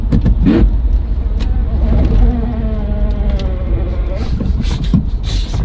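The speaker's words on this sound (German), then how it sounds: "Oh, ich glaube, die Kupplung schleift." Car engine with a slipping clutch during a towing attempt: a steady, strained whine and drone runs throughout at close range, with brief rises in load and faint voices underneath.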